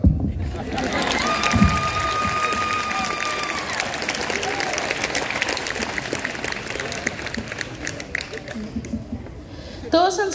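Applause and crowd noise at a graduation ceremony, a broad clapping wash with scattered voices and a few sharper individual claps, ending in a brief burst near the close.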